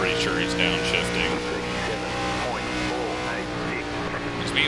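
A race car engine in the iRacing ARCA Series on the Motegi oval, downshifting, drones steadily with shifting pitch and rising whines, fairly close, with a voice talking over it.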